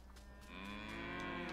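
A cow in the video game Wobbly Life lets out one long, drawn-out moo that swells and holds steady, clear and close, with no talking over it.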